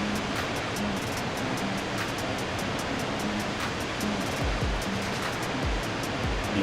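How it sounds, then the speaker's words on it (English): A small waterfall in the Farming Simulator 22 video game pours in a steady, loud splashing roar that fills the scene continuously, with soft low thumps near the end and no voices. "This is just a little waterfall here."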